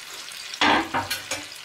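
A wild boar leg sears in butter in a pan, with a loud sizzle flaring up as the meat is moved or turned, then crackling in quick bursts.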